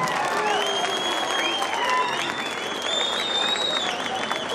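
An audience at an event claps steadily and loudly for several seconds, a dense continuous applause with some crowd voices mixed in.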